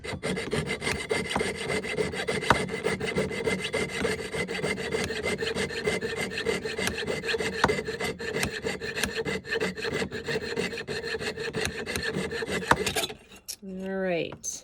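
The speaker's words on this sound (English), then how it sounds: "I'm reaching the last bit of the sawing here" Jeweler's saw cutting through sterling silverware for a bracelet, a fast, steady rasping stroke repeated evenly and close up for most of the clip, then stopping before a few faint metallic clinks.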